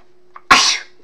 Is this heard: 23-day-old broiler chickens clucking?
no